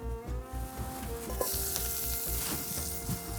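Chili, lemongrass and garlic hit a hot pan and sizzle, a quick hiss that swells into a loud, steady crackling fry with a few clinks, heard up close.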